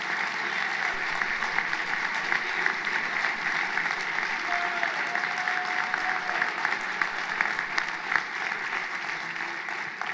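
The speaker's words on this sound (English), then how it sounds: "Round of applause." Sustained crowd applause at the AWE Atlanta 2024 Boot Camp finals, a steady dense patter of many hands filling the hall for about ten seconds, slightly distant, with faint voices underneath.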